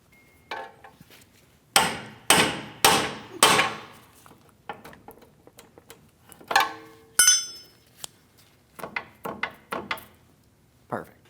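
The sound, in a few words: hammering pickle fork to separate ball joint from steering knuckle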